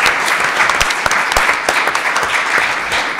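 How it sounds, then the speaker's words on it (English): An audience at a panel discussion on reporting sexual misconduct applauds, a dense, close burst of many hands clapping steadily and without a break. "I think Adam deserves a round of applause."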